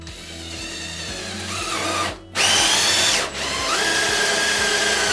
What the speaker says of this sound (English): Once you've drilled a hole along the inside edge of the line you traced